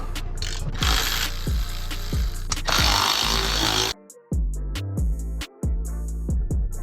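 Power tool breaking loose exhaust mid-pipe bolts under a Nissan 350Z during a shifter install, giving loud, dense ratcheting bursts for about four seconds, then short choppy mechanical clicks and knocks.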